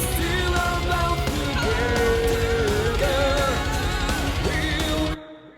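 Power metal singing from a cover, sustained vocal lines over a dense full band mix, running loud and compressed for about five seconds before stopping abruptly.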